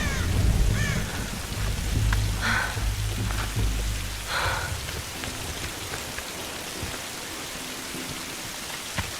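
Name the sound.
storm rain and thunder in Tomb Raider video game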